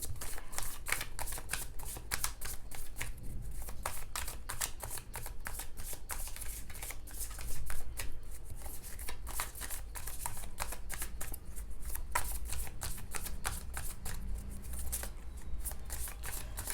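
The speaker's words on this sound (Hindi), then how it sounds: "जब तक मैं कार्ड शफल कर रही हूँ" Tarot cards being shuffled continuously by hand, with rapid riffling and flicking at a steady rhythm that stays close and even throughout, with no voices.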